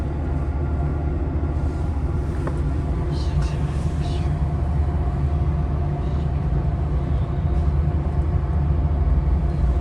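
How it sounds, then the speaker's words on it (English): An eastbound ACE commuter train, number 6 to Stockton, passes outside a moving Capitol Corridor train, heard as a steady heavy rumble and rolling rail noise throughout, with no clear separate pass-by peak. "There's Ace train number 6 right there."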